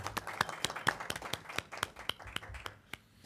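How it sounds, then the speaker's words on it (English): Sparse clapping from a small audience at a city land use and sustainability committee meeting, distinct individual claps in a quick, uneven rhythm that slows and tapers off, fairly quiet in the room. "We have applause in the audience."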